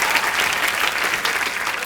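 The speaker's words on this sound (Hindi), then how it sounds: "यामी के लिए भी जोरदार तालियां" Loud, steady applause from a studio audience on a comedy show, filling the whole short stretch with dense clapping and no break.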